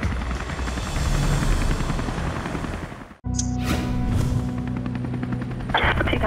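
A search and rescue helicopter flies overhead with a loud, continuous rotor chop, cut briefly by an edit and then resuming just as strong with some sharp clicks.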